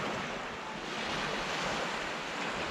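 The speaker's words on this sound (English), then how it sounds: "So I just want to give you a shot of the Adriatic Sea once again" Surf of the Adriatic Sea washing steadily against an Albanian shore in the low season, a continuous broadband wash with light wind buffeting the microphone, no voices.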